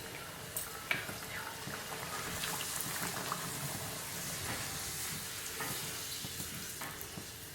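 A poori fries in hot oil over high heat, giving a close, continuous crackling sizzle with a few sharp pops and bubbling throughout.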